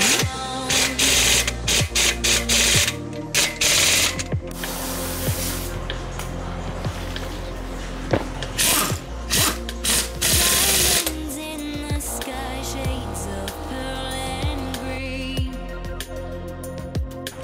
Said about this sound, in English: Just torquing it to spec is what I can do.